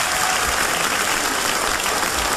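Steady, loud clapping from a large crowd, a continuous wash of applause with no break or voices.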